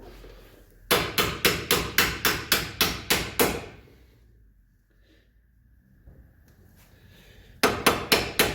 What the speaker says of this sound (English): I can hammer these bolts out